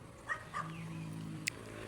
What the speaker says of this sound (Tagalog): Pero ang dami nilang aso kasi.